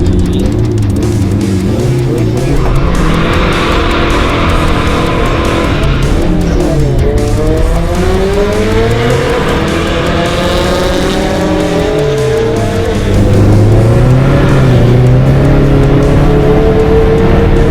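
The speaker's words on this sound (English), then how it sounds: "Can't get traction whatsoever." Toyota Hilux drag build spinning its wheels without traction, loud sustained tire squeal and skidding over a revving engine, pitch rising and falling as it slips, close and continuous.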